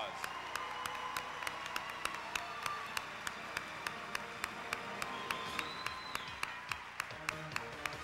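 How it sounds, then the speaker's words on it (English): Audience applause at a Miss Ohio Teen USA pageant preliminary, fairly faint and distant, with sharp individual claps standing out rhythmically over a soft crowd wash. "Let's give them one more round of applause."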